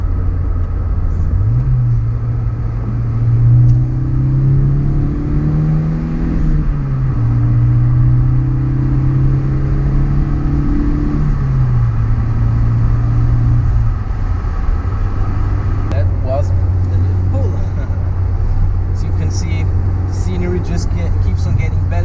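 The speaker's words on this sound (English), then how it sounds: "I will do a second gear pull." A Nissan Sunny Coupe GTi pulling hard in second gear on Swiss mountain roads with the window open, heard from inside as a loud, steady engine drone rising in pitch, a brief shift-like dip, then continuing with wind noise throughout.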